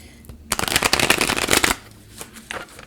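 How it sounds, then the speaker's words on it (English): A deck of tarot cards is shuffled: one dense riffle lasts about a second, followed by a few softer taps and flicks as the cards settle, close and clear. "3 good shuffles is all we need to set the spread."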